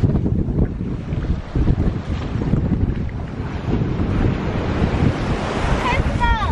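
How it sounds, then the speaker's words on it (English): Ocean waves roll in on a beach in Mexico, a loud, steady wash of surf mixed with wind rumble on the microphone, heard close by. "Some waves coming in."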